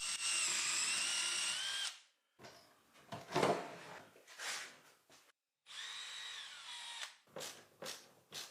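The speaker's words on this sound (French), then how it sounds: "percer mes trous de fixation plus grands pour qu'ils puissent bouger" Power drill boring enlarged screw holes into a wooden desktop, in two sustained bursts with shorter whirs and pauses between, close and fairly loud.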